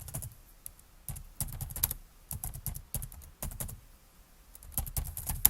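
Fingers tap out quick bursts of keystrokes on a computer keyboard, close and quiet, separated by short pauses in an otherwise silent room.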